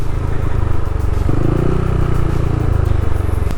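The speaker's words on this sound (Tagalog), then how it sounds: "Motor lang sa paligid." Motorcycles rumble past on a road beside the Lingayen Baywalk, a close engine drone swelling as one passes near, with rattling and clatter in steady outdoor traffic.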